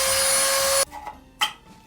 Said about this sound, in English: I'm going to use this tool here, and I am going to, it's kind of like a Dremel and a drill combined, and I'm going to just poke through there